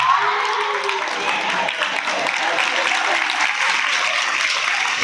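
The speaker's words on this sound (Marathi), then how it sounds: "टाळ्या पण फक्त मुलीच वाजवतात." Girls in a lecture audience clap together in dense, continuous applause that stays loud and even from start to finish.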